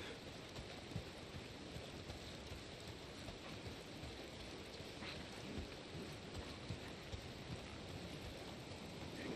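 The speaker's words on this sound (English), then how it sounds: "it's the goddamn rain. Why is it always raining?" Steady rain falls in the Days Gone video game, a soft, even hiss that continues unbroken with no voices.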